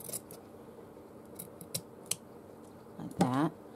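Scissors snipping fabric or thread for a stitched journal page, a few sharp close clicks and cuts spread out in a quiet room, followed by a brief murmured voice near the end.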